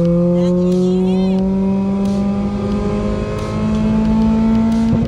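A Mitsubishi Colt 1.3 engine idles and revs steadily through an aftermarket exhaust, a loud sustained drone with slowly climbing pitch, close by, with brief voices and clicks over it.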